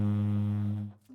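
A tenor saxophone sustains one low note in soft, rounded subtone, steady and close for about a second before it fades out and a brief new tone begins.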